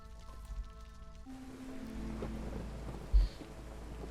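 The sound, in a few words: thunder and rain of a storm in the video game Against the Storm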